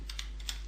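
A few quick keystrokes on a computer keyboard, soft clicking taps close by against a steady low hum.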